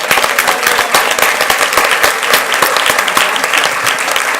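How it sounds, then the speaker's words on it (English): A boardroom audience at a school board meeting breaks into steady, dense applause for a student who will attend MSU, the clapping sustained and fairly loud throughout with no talking over it. "And let's give this student a round of applause."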